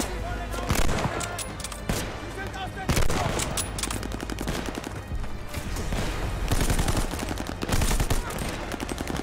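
Dense machine gun fire in COD Vanguard, a loud continuous stream of rapid shots with heavier bursts and booms layered in, running throughout with faint voices underneath.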